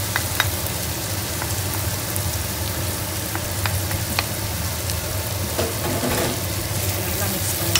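Chicken sukka with added masala being stirred and mixed as it fries in a pan, giving a steady, close sizzle with occasional scraping clicks throughout.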